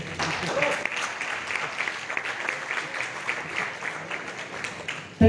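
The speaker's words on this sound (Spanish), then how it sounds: "Aplauso para Cuba" Applause from a conference audience at an international neuromotor science congress, a steady spread of clapping with a murmur of voices, moderately loud and fading slightly before a sharp bump at the end.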